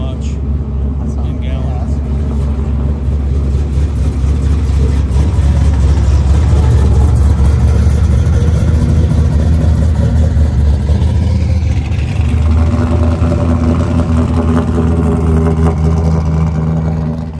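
A car engine drones steadily while driving on a road in the morning, a loud continuous low rumble filling the whole stretch, with talking over it at times.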